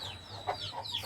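A backyard hen gives a few soft, low clucks while her chicks peep thinly in the background, all faint and close in a brief moment.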